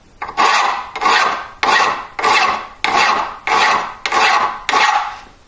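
A file rasps across a supposedly hardened steel tool clamped in a vise, giving eight loud, close, even strokes in a steady back-and-forth rhythm with no talking.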